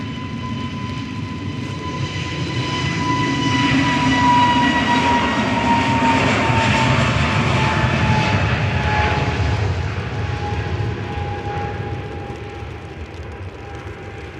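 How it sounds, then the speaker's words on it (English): An EasyJet Airbus A321neo airliner passes at Manchester Airport, its engine roar swelling to a broad steady rumble with a faint whine, then slowly fading over about fourteen seconds. "It's an EasyJet A321neo going to Fuerteventura"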